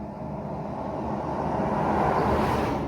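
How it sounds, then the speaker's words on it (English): Continuous road traffic noise heard from inside a parked camper van, a broad steady wash of passing vehicles that swells gradually louder, with no speech. "sorry about the traffic noise"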